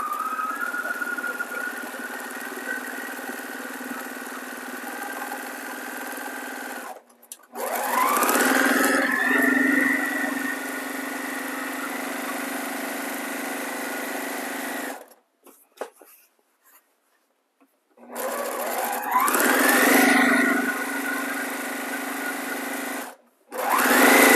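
A sewing machine stitches quilt blocks in several long, steady runs, with a high whine and a clear hum close by. Silent gaps fall between the runs as the fabric is fed through.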